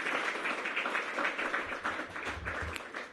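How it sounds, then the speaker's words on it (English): Audience applause for Mayor Bowser at a street celebration in Historic Anacostia, DC: a steady, fairly quiet wash of many hands clapping from a crowd, continuous across the whole stretch. "So let's give Mayor Bowser a round of applause."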